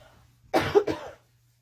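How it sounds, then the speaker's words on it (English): A single short cough, a quick double burst, close and fairly quiet against a silent background. "Oh, hold on, I got a cough."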